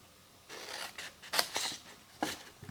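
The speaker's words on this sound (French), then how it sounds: "on va maintenant couper ici ces languettes jusqu'au pli" Scissors snipping through fabric tabs up to the fold, a few close, soft crisp cuts in short bursts with quiet pauses between.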